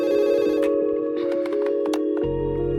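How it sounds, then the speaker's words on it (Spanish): A telephone rings in a steady, continuous electronic tone, close and loud with no one talking, before the ring cuts off near the end. "sonó el teléfono."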